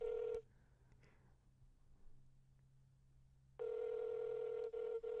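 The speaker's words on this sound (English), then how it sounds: "So we're calling our buddy Shim real quick" Phone-call dialing tone from a call placed to a friend, a steady electronic tone heard briefly at the start, then a quiet gap with faint hum, then the tone returning steady and clear to the end.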